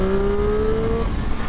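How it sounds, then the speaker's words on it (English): A 2023 Triumph Street Triple R motorcycle engine pulls hard under acceleration on a private road, its rising tone sweeping upward for about a second amid loud wind and road rumble. "This is a properly fun little motorcycle."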